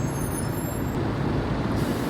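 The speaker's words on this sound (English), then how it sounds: "Sorry about the noise of all the buses" Buses idle and rumble at a busy bus station in Burns Statue Square, Dumfries, with a sharp air-brake hiss fading out early, all under steady loud low-frequency engine noise.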